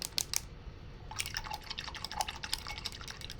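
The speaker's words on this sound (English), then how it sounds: "So, let me wash my brush." A paintbrush loaded with acrylic paint is rinsed in a container of water, giving close, soft dripping and sloshing with light taps against the container, steady and alone for a few seconds.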